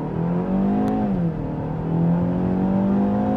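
A 2025 BMW X1 xDrive28i in sport mode pulls hard under throttle, its engine note rising steadily in pitch with a brief dip as it shifts, heard from the cabin, steady and moderately loud.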